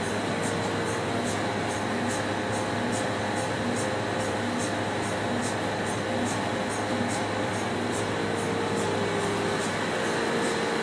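A CTI CT8 cryopump runs on a high vacuum coater, giving a loud, steady mechanical drone with a regular rhythmic chuffing pulse, heard alone without talk.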